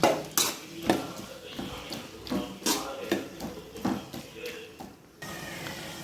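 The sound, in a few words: stirring chopped tomatoes into sautéed onions in a pan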